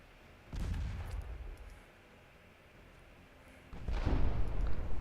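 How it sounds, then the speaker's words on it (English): Torpedo launches in the naval warfare game Ultimate Admiral Dreadnoughts: two heavy, booming discharges a few seconds apart, each a loud broadband thump that trails off, with a quiet hiss between them and no talking. "Would you please fire the goddamn torpedo?"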